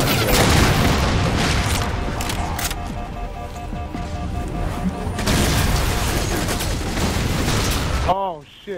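Fuel rod gun blasts in the Halo video game, with heavy booming explosions and a dense, sustained roar of combat that fills the scene, loud and close, before the noise cuts off near the end.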